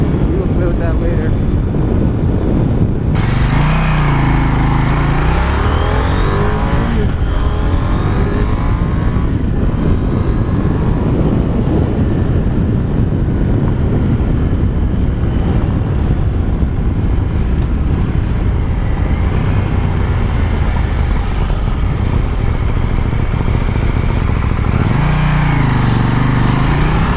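A KTM 890 Duke R motorcycle engine drones steadily while riding, with wind rush and rising and falling revs through gear changes, loud and close throughout.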